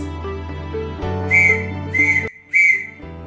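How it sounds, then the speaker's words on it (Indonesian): Three brief, evenly spaced whistled dots form the Morse letter S, bright and near, over soft background music. "Nah, kemudian dari bunyi huruf S."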